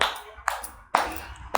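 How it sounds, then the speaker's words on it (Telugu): Straight hand claps come from someone seated in Vajrasana during a yoga routine: three sharp, close claps spaced about half a second apart over a quiet background. "వజ్రాసనంలో కూర్చొని స్ట్రైట్ క్లాప్స్ కొట్టండి"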